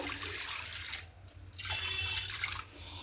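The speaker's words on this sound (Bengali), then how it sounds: "এবার এখানে জল দিয়ে দেব।" Water pours into a pot of washed moong dal, a close splashing and gurgling stream that breaks off briefly in the middle and then resumes, with no talking.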